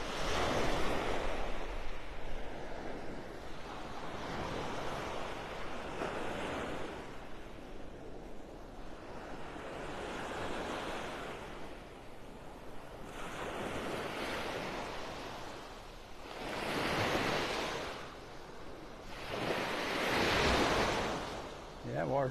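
Ocean waves on Vanderbilt Beach in North Naples, Florida, roll in steadily with a continuous surf wash, swelling louder as breakers crash near the end, with light wind buffeting the microphone.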